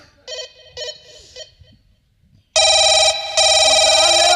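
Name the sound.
telephone ringing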